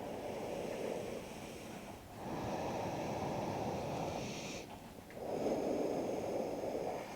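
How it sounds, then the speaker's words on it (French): Deep, slow yoga breaths during a sun salutation, three long airy inhale-exhale cycles with brief pauses between, close and steady with no talking. "Une dernière respiration."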